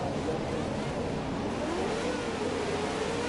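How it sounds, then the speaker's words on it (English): An F1 car engine in the racing game F1 2017 drones in a dense, continuous roar, its pitch climbing slowly as it revs, loud and close throughout. "Oh, listen to that engine."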